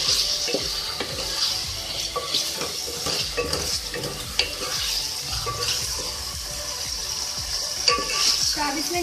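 Food is stirred and mixed in a frying pan while making green onion with chicken, giving a close, continuous sizzle broken by repeated scraping and clattering strokes of the utensil, with no one speaking.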